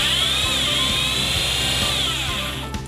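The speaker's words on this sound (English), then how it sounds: "Use an 8mm drill bit to drill holes." A power drill with an 8mm bit bores into a wall to mount an inverter, a loud, continuous high whine close by that dips slightly midway and winds down at the end, with no voices.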